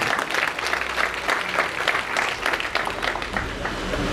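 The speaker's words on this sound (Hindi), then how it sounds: "मैं चाहता हूं उनके लिए भी जोरदार तालियां होनी चाहिए" Sustained audience applause at a Kargil Vijay Diwas memorial tribute event, a dense steady wash of many hands clapping throughout, moderately loud and continuous with no pause.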